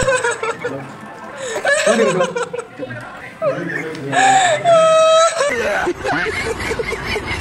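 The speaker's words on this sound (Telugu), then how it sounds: "ఎలా ఏడుస్తున్నాడు మీరే చూడండి" A man cries and whimpers with wavering, pitched sobs, broken by bursts of laughter and chatter from others nearby, loud and close throughout.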